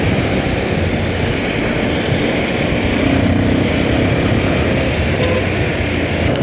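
A Honda Shine motorcycle ridden on a road trip out of Kathmandu gives a steady, loud engine drone blended with rushing wind, unbroken from start to finish.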